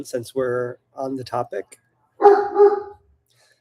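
Great Dane Mastiff mix dogs bark while playing. The deep barks come as a loud pair near the end, after a voice speaking.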